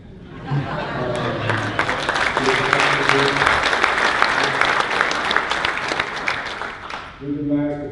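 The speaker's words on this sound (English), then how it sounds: "I really want to give a rousing round of applause for my boss" A crowd at a 2019 A&M University keynote speech bursts into sustained loud applause. A voice speaks briefly before it swells and again as the clapping fades.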